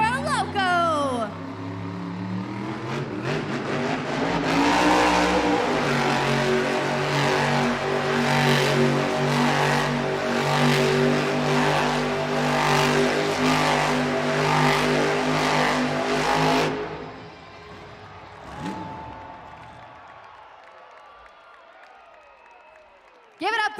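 The El Toro Loco monster truck engine roars in an indoor arena, revving loud and sustained with pulsing throttle blips for about fifteen seconds before cutting off, with a crowd and an announcer's voice faintly underneath.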